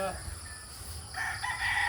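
A rooster crows, ringing out clearly over a low background hum and hiss, with no one speaking.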